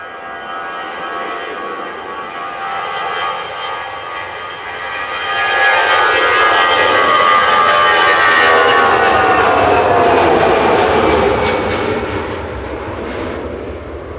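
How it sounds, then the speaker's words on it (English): A 24-year-old TAP Air Portugal Airbus A320 jet departs runway 23 left at Manchester Airport, its engine roar swelling from a distant rumble to a loud, broad peak, then easing slightly as it climbs away. "Departing on 23 left, though, is TAP back to Lisbon, CSTNL A320 Classic with flight 1313"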